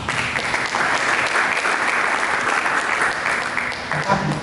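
A church congregation claps together in sustained, loud applause during a sermon, a thick, even wash of hands beating throughout with no voices standing out.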